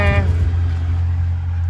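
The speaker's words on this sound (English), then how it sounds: "I got like this loud traffic. It's a lot of traffic today." Loud road traffic passes close by, a steady broad rumble of car engines that holds for under two seconds.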